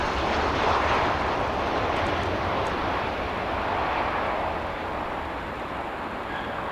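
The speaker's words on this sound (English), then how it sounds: "Here's our Southwest Airlines 737." A Southwest Airlines Boeing 737 at O'Hare International Airport, its engines producing a steady, fairly distant roar that rises slightly early on and then eases gradually, with no speech over it.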